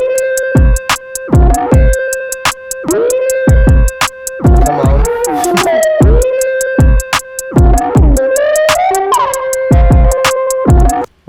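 A heavily reworked drum break with booming kicks and crisp hats under a tonal, pitch-bending melodic sample, loud and continuous, with a brief voiced exclamation partway through.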